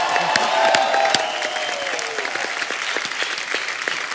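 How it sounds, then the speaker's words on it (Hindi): A studio audience at a comedy talk show claps and cheers, a loud burst of applause with whoops and shouts that tapers slightly but stays busy to the end. "जोरदार तालियां।"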